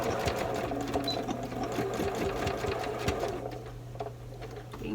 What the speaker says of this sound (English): being careful so I don't sew over that pin.